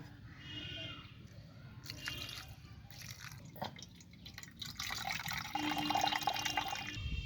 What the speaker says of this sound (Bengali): এবার আমি ছানাটা কেটে নিয়েছি জলটা ঢেলে দেবো ছানার জলটা